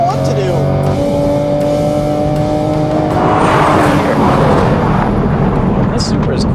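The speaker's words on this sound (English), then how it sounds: "This Supra is quick and it sounds good." Toyota GR Supra accelerating hard in a drag race against a Chevy Corvette Stingray, a loud continuous engine roar rising in pitch through the gears, close and steady, then swelling into broadband rushing noise as it pulls away.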